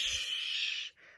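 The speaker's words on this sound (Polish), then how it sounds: "W lesie jest sowa." An owl in a forest giving two breathy, hissing calls, a long one followed by a shorter, softer one, in quiet surroundings.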